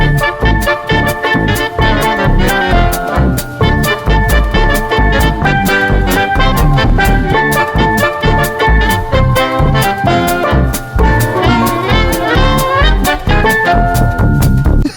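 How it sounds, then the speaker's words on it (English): Upbeat instrumental band music with a steady rhythmic beat and bright melodic lines, playing loudly and continuously without any voices. "it's just sort of like a bar band that you might find on a planet somewhere with two suns."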